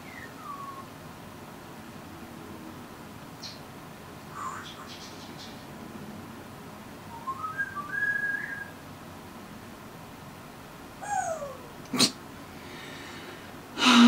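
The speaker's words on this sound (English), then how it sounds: "That is our African Grey." An African grey parrot lets out a few short whistles and chirps over a steady background hiss, with a sharp snort-like burst near the end.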